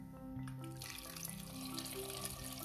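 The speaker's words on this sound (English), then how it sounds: "I'll add some water," Water poured into a pot of vegetables being readied for boiling in a home kitchen, a steady close-up splashing and trickling over an ongoing low background hum, with no talking.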